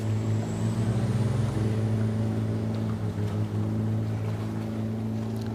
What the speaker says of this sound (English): The motorized boats are quite loud.